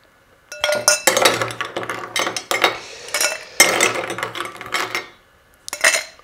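Ice cubes scooped into a cocktail glass for an Aperol Spritz, a loud close clatter of repeated clinks and rattles in bursts, pausing near the end before a final clink, with no talk.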